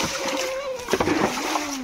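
Water is bailed by hand out of a stream pool in the Konkan countryside, with a couple of quick, close splashes and sloshes while people talk nearby.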